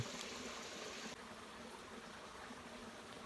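A forest creek flows steadily beneath a hammock camp, a dense, even rush of running water filling the quiet woods with no voices.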